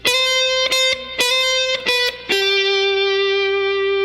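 A slide guitar plays the final phrase of a song's solo: several quick repeated plucked notes, then a slide up into a long sustained, ringing note, loud and clear with no voices.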